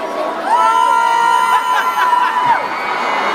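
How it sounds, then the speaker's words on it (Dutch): Students of Zernike College at a school awards finale scream as loud as they can, a dense, loud crowd roar sustained for several seconds with a steady tone sounding over it. "Hoe hard kunnen jullie met z'n tweeën schreeuwen eigenlijk?"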